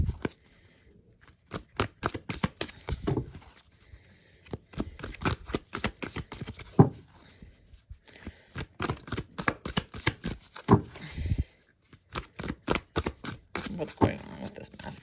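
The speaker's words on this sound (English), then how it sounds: "But let's just keep pulling out some cards." Tarot cards shuffled and drawn close up, with rapid riffling and snapping taps running throughout under ongoing talk.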